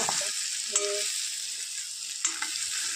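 Khichdi frying in a pan gives a steady, close sizzle throughout, with a couple of faint clinks or stirring knocks and no talk.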